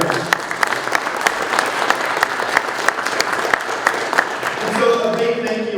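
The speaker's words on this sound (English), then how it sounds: "if you could give them a round of applause on behalf of our district" A school district audience claps loudly for a Public Service Appreciation Day honoree from the District 86 Board of Education event, a dense sustained round with crisp individual claps, and a voice begins speaking near the end.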